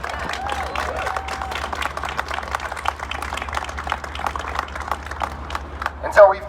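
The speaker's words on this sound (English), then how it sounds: "Everybody give it up for a round of applause for Joyce again" Scattered crowd clapping for a speaker named Joyce at a Black Lives Matter Rhode Island justice gathering, fairly soft and running beneath a speaking voice, with a brief louder burst near the end.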